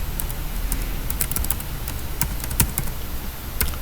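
Rapid computer-keyboard typing during Linux terminal work, with irregular clicky keystrokes and a few louder key hits, steady and close with no voices.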